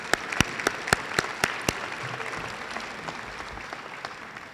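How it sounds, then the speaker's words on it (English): Applause from the audience at a university graduation ceremony keynote, a steady wash of clapping with a few sharp, distinct claps standing out near the start before it thins and fades. "I think that deserves a round of applause."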